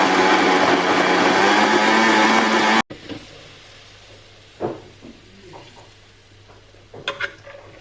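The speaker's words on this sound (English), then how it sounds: "I'm going to add some of this and continue the blending." A blender whirs loudly and steadily through waffle batter with chia seeds for about three seconds, then cuts off abruptly, leaving light clinks and knocks of kitchen handling.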